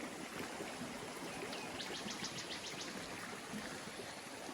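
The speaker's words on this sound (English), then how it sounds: "that's a nice stream down there" A stream flows over rocks during an outdoor hike, a steady rushing wash that continues evenly throughout, with faint light ticking sounds partway through.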